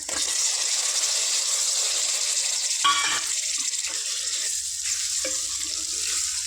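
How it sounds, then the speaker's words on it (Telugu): Meat pieces frying in oil for Telangana-style boti curry, a loud continuous hiss of sizzling oil close up, with a few brief stirring knocks. "వీటిని కూడా ఒక ఫైవ్ మినిట్స్ ఇలా ఫ్రై చేసుకుందాం ఆయిల్లో"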